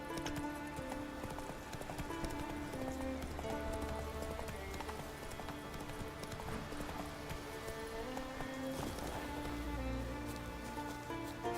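A horse gallops in a video game with rapid, continuous clip-clop hoofbeats throughout, moderately faint and set against background game music.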